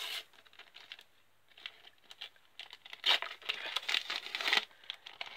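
Foil wrapper of a Merlin Premier League 2019 sticker pack crinkling and tearing open up close, a run of sharp rustles and crackles that grow busier and louder toward the end, with no talk.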